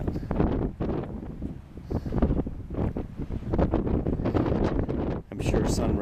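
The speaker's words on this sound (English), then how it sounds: "It's rather windy up here." Strong wind buffets the microphone at a clifftop overlook in Dead Horse Point State Park, rumbling in uneven loud gusts throughout while someone talks over it.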